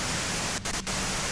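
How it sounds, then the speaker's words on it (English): Loud, dense white noise static fills the moment as a flat, constant hiss, broken by two very brief dropouts near the middle. "you can do it through the white noise."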